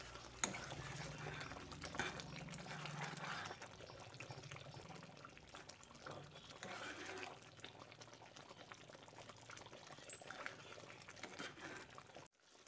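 Oil being stirred into Lahori chana in a pot, soft wet scraping and squelching of chickpeas and masala, quiet and continuous with a few louder stirs.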